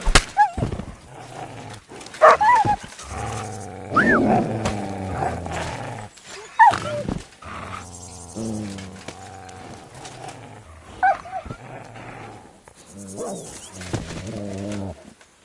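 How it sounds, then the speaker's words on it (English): Dogs in the video game Kingdom Come Deliverance II bark and snarl in rough, uneven bursts with pauses between, close and fairly loud against a quiet game background. "kutyák!"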